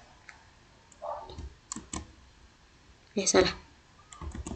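Computer keyboard typing while working in MATLAB: a few sharp, close key clicks and taps come in short, irregular clusters, with a voice speaking briefly between them.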